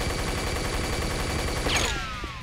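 A flak cannon fires in the video game Unreal, one sharp blast with a bright metallic ringing tail cutting through a noisy, busy game soundscape near the end.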